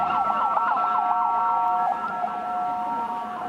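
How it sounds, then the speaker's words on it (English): An ambulance siren wails through a street protest in the West Bank, its rapid rising and falling tones loud and close, holding steady over a low background of crowd noise. "Oh, watch out, we got an ambulance coming through."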